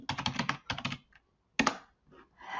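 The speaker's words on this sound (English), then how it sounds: "To turn exam mode off, we'll just go into this box again and type in admin settings." Quick bursts of keystrokes on a computer keyboard, entering a settings password on a Windows PC, come in two clustered runs, then a sharp lone tap and a softer final flurry, close and clear with no talk.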